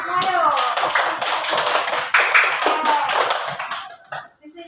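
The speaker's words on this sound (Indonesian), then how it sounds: "Tepuk tangan yuk, semua yuk." A group of children in a classroom claps hands in a dense burst of applause lasting several seconds, tapering off at the end, with a voice underneath early on.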